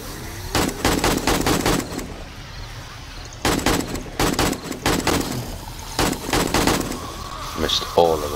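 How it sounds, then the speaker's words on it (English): Gunfire in 7 Days to Die comes as repeated rapid bursts, loud and close, in several clusters separated by short pauses. "Missed all of those shots."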